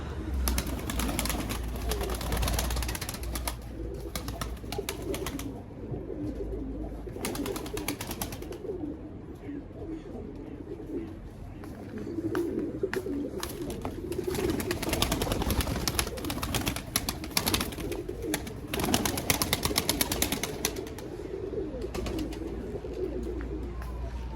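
Breeding pigeons coo continuously in a loft, with low rolling calls layered throughout, frequent flapping and scuffling bursts, and occasional faint sounds of a person nearby.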